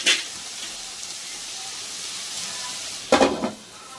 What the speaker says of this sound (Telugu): ఇదైతే బాగా వేగనిద్దామండి